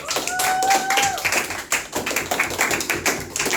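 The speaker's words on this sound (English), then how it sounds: "why don't we give Michelle a round of applause?" Scattered clapping from a small class for a student presenter, uneven taps and claps at close range, with a brief whistling tone early on.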